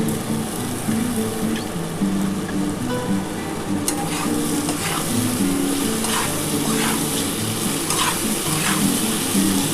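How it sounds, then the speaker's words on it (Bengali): Potato pieces fry in a pan with a pinch of sugar for a katla fish curry, giving a steady close sizzle with occasional stirring scrapes throughout, no talking. "দেখো আলুটা কিন্তু লাল করে ভাজা হয়ে গেছে।"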